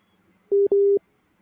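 A telephone busy signal sounds as two short, clean steady tones back to back, clear against a near-silent line while a caller reconnects to a live stream.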